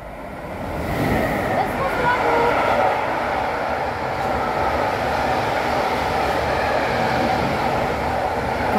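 Freight train hauled by two Austrian Vectron locomotives, probably carrying coal, rumbling steadily past an open train window, a continuous loud roar of wagons holding throughout, with voices in the background.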